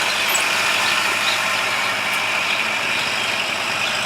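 A tractor engine runs in a wet rice field full of chopped rice stalks and mud, giving a steady, loud drone that stays constant throughout with no pauses.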